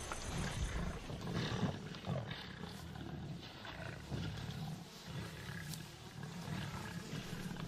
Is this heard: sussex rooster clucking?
no